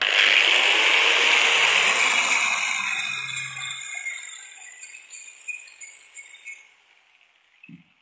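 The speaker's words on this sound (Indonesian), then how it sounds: "Kita ratakan pakai gerinda" An angle grinder smooths a part of a washing machine motor, a loud close whining grind that gradually fades and breaks into scraping bursts, ending with a short clink.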